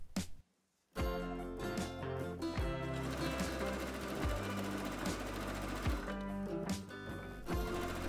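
A sewing machine stitches a trouser pocket seam in a continuous mechanical whirr with rhythmic needle thumps. It starts after a brief pause, runs steadily for about seven seconds and dips briefly near the end.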